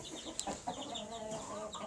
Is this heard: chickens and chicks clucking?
yes